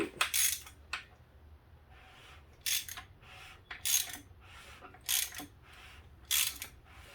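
A small-block Ford engine on a stand is turned over by hand, producing repeated metallic clicking and ratcheting bursts, each a sharp close clack followed by a pause, about six cycles in a quiet room.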